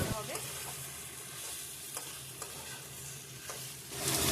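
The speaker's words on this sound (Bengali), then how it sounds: "এবার এর মধ্যে আগে থেকে বেটে রাখা সর্ষে আর কাঁচা লঙ্কা বাটাটা দিয়ে দিতে হবে দিয়ে ভালো করে নেড়ে ছেড়ে নিতে হবে" Water lily flowers frying with mustard and green chilli paste are stirred in a pan, a steady close sizzle broken by scraping spatula strokes, with no talk.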